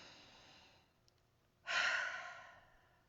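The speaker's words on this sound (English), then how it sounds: "Everybody take a nice deep breath." A group on a Zoom call takes a deep breath together, a soft inhale followed by a louder, drawn-out breathy exhale that fades, with no words spoken.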